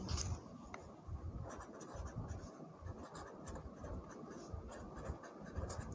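A pen scratches steadily on paper, close up, in continuous strokes with short pauses, and there is little or no talk over it.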